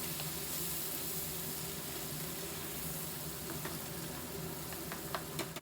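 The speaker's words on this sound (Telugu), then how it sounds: "ఇప్పుడు ముందుగా రెడీ చేసుకున్న ఈ పేస్ట్ వేసేసుకుందాము. వేసుకొని ఈ విధంగా ఒక్కసారి బాగా కలుపుకొని" Ground masala paste being stirred into a hot pan with fennel seeds and curry leaves while making dhaba-style egg masala, giving a steady close sizzle and frying hiss with a few spoon scrapes near the end.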